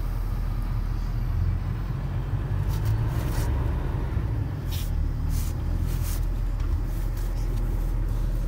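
Steady low engine rumble and road noise from inside a moving car on the way to a shop, constant and fairly loud, with brief hissy bursts now and then.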